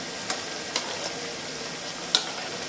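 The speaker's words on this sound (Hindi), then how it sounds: "मैं इनको 2 मिनट के लिए और फ्राई करूंगी और मैं इनको उतार दूँगी" Potato and onion pakoras fry in hot oil with a steady, fairly loud sizzle and a few soft clicks from a utensil, with no talk.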